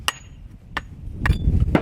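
A bricklayer's hammer taps a brick to shape it, four sharp close knocks spaced apart, with light scraping and a low rumble between the strikes.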